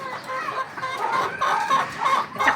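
Boston Sweater and Boston Black chickens cluck in a backyard breeding pen, a close, busy run of overlapping clucks and short calls continuing through the whole short stretch.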